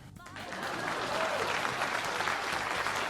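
A burst of crowd applause rises quickly and holds as a dense, steady patter of many clapping hands, fairly distant and uniform, cutting off abruptly at the end.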